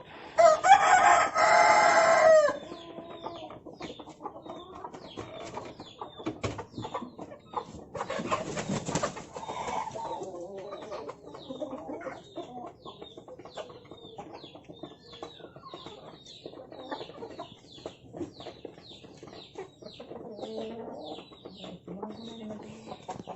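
Free-range country chickens, hen-hatched without an incubator, cluck and chirp steadily around a homemade two-tier coop. A loud rooster crow opens the scene, and the birds carry on in a busy, layered chorus afterward.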